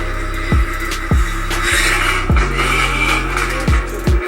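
A car fitted with BBK headers revs repeatedly, each blip rising sharply and falling away in a rapid rhythmic series, loud and close with a deep exhaust rumble throughout.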